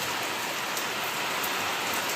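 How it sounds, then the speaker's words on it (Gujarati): Heavy rain pouring down outside a home, a dense, even hiss of drops on surfaces filling the short stretch with no voices. "જોરદાર વરસાદ આવી રહ્યો છે"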